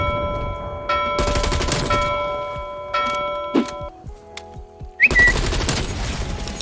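XM4 rifle fire in Black Ops Cold War, rapid automatic bursts broken by short gaps and game interface tones, loud and close.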